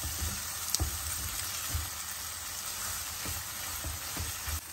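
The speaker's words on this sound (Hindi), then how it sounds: "अब मैं इसमें ऐड कर दूंगी पास्ता वाटर और चिकन स्टॉक" Tomato paste fries in a pan for a creamy tomato pasta as pasta water and chicken stock are added. A loud, close, continuous sizzle crackles on with no talking.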